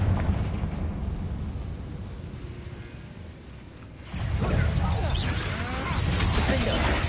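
The Confringo blasting spell goes off in Hogwarts Legacy, with a low rumbling roar that swells into a sudden loud burst of crackling blast noise about halfway through, with a voice talking faintly.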